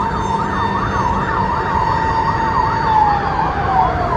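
A loud emergency siren warbles continuously over road noise, its pitch dipping slightly near the end as the fire engine passes.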